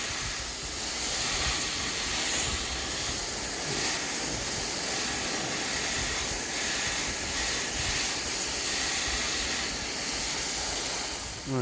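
Water sprays steadily over a K&N air filter while it is rinsed, a continuous broad hiss with no pauses.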